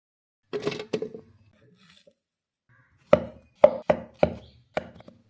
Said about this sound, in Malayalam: ആദ്യം തന്നെ നമ്മുടെ ആപ്പിളിനെ ഇവിടെ മുറിച്ചു കൊടുക്കുകയാണ്.